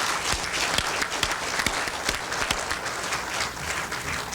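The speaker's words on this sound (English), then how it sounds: "let's applaud the profession of social work as well" Steady applause from a lecture audience fills the space, dense overlapping claps with a few sharper nearby hand strikes, sustained at an even level throughout.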